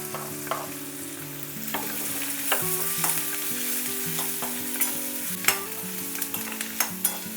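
Chopped onion and green chillies dropped into hot oil seasoned with cumin and asafoetida, frying with a steady close sizzle and scattered clinks and scrapes of a spoon stirring in the pan, with no talking.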